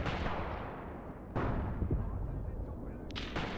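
Gunfire and heavy booms from troops firing out of foxholes in the war game Graviteam: Pivot Point, sharp reports cracking over a dense rumbling battlefield roar.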